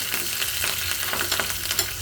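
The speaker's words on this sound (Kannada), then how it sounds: "ನಂತರ ಕರಿಬೇವು ಹಾಕ್ತಾಯಿದ್ದೀನಿ" Mustard seeds, cumin and curry leaves sizzle in hot oil for a vegetable sambar tempering, giving a steady, close, crackling fry with small pops throughout and no talking.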